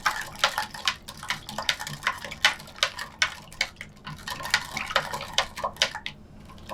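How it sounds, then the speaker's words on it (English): A long spoon stirring hand-squeezed lemonade to dissolve sugar, a steady run of quick clinking taps against the container with faint liquid swirl, close and alone. "you really just wanna stir, like all the way to the bottom to make sure the sugar dissolves into it"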